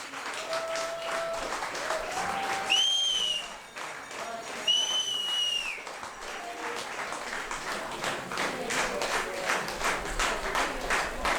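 A wedding-party crowd keeps up steady, dense applause, with a few shrill whistles rising above the clapping near three and five seconds and voices mixed faintly beneath.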